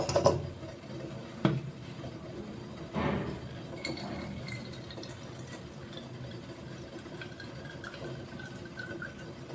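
Homemade toner liquid poured into a container, with a few clinks of glass at the start followed by a soft, steady trickle of liquid, close by and fairly quiet.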